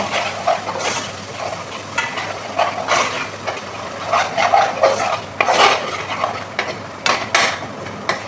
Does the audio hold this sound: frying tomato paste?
yes